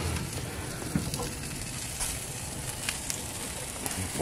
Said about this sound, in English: I got them on the sear side.